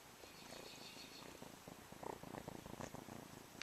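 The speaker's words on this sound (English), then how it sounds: "if you can hear, he's purring" A small feral kitten in a cage purrs close up, a soft continuous rumbling with a steady rhythm that swells slightly toward the end.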